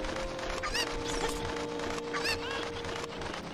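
Chicken clucking in the video game Zelda: Ocarina of Time, a couple of short squawking bird calls over a constant background music tone.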